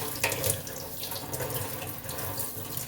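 Water gushes steadily from a tap on a geyser outlet line as it is opened, a continuous close splashing rush of mixed hot and cold water that stays even throughout.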